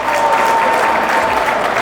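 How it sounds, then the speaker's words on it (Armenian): A wedding audience applauds with dense, steady clapping that holds at an even loudness throughout. "Բայց այդ ծափերը թողում ենք հիմա"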